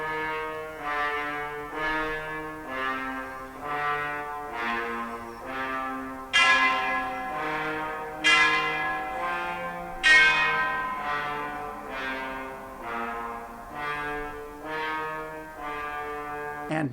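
An orchestral recording of Berlioz's Dream of a Witch's Sabbath plays, with deep tolling bell strokes ringing out in a slow, regular sequence, several struck louder, each decaying into the next, with no voices.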